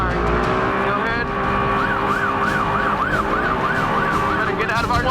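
A wailing siren rises and falls in a steady repeating sweep over a loud, constant engine roar, close and continuous, at an offshore powerboat race in the desert.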